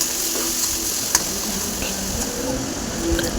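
Tomato frying with curry leaves in a hot pan makes a loud, continuous sizzle and crackle, with an occasional sharp pop and faint utensil scrapes.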